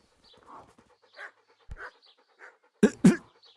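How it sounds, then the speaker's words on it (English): A dog in the medieval video game Kingdom Come: Deliverance whimpers and whines softly several times, then lets out two loud, close barks in quick succession. "That frickin' dog."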